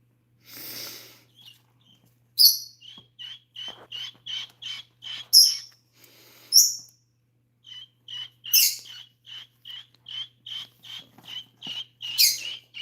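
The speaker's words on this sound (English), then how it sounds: "I don't know about those baby birds." Four-day-old baby chicks peep in a rapid series of thin, high chirps, close and fairly faint, with a few louder shrill calls and brief breathy noises in between.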